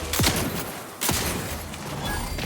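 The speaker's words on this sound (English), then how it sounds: "Triple barreled shotgun" A triple-barreled shotgun in Outer Worlds 2 fires two loud, booming blasts about a second apart, each fading into a rumbling tail.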